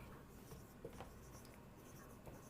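Pen writing on paper during a nursing class: steady soft scratching and rubbing strokes, close and continuous, with no talk over it.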